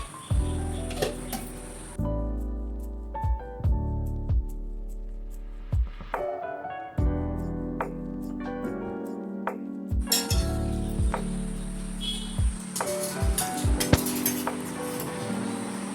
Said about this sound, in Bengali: এখন আমি ঢাকনাটা খুলে সার্ভ করব।